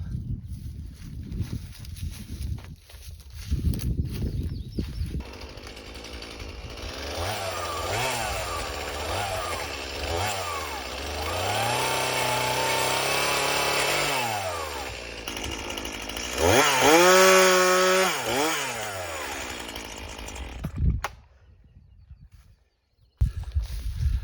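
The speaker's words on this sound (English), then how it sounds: "let me go grab my chainsaw, I'll cut a piece" A chainsaw revs and bogs as it cuts through a log, engine pitch rising and falling, with idle stretches before and after the cut.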